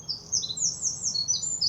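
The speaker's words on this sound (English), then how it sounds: "you can just hear the birds sing" Birds chirp and call in high, overlapping bursts through a quiet morning, with a faint low hum beneath and no talk.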